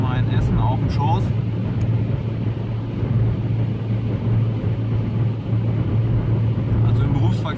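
Steady low rumble inside a Volkswagen Golf 3 driving on the autobahn at night, with constant engine and road drone under a person talking.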